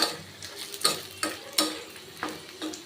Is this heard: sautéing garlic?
yes